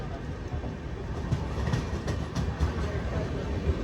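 The Howrah to Kanyakumari Superfast Express runs along the tracks, heard from on board as a constant close rumble with faint rhythmic wheel clacks and rattling carriage noise.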